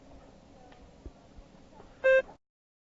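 A single short electronic beep from a TOEFL speaking test sounds, clear and steady, after a stretch of faint background noise, then silence follows.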